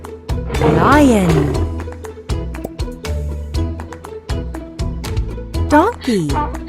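A lion gives a loud, drawn-out roar near the start and a shorter roar near the end, both over bouncy background music.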